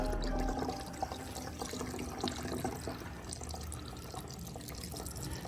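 Liquid car-washing product trickles and splashes steadily back into a bottle nearby, a quiet continuous pouring with small knocks and gurgles.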